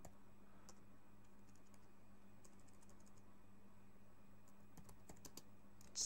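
Keyboard typing in Microsoft Word while building a school timetable, heard as faint scattered key clicks in short bursts over a steady low hum, with no talking.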